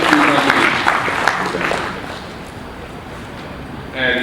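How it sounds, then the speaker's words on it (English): An audience at a TiECon Kerala talk breaks into applause. The clapping is fairly loud at first, then thins and fades over a few seconds, and a voice comes in near the end. "I think that deserves a round of applause"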